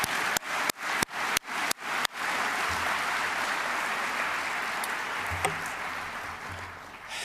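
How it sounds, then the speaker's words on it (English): A few loud, close individual claps open before a large business annual-meeting audience breaks into sustained, dense applause for the outgoing chairman, holding steady and then slowly fading. "Well, one more round of applause for Tony Chase, the outgoing chairman."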